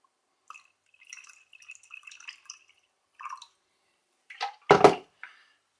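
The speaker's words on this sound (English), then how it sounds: "I can make it far better by topping it up to 200 millilitres with just pre-boiled water" Pre-boiled, cooled water is added to a homemade hand sanitizer solution indoors in quiet surroundings. A few light scattered drips and trickles are followed by a short, louder splashing pour and a final small drip.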